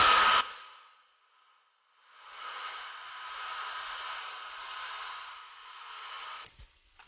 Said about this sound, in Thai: ก็ใช้เครื่องทุนแรงโดยการใช้ใดเป่าผมเนี่ย เป่าลงไป